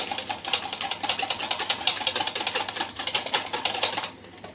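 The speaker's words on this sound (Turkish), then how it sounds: "Önce yumurtamızı iyice çırpıyoruz şöyle" Eggs whisked briskly in a bowl, a fast, even run of clicking strokes up close that keeps going steadily, then stops just before the end.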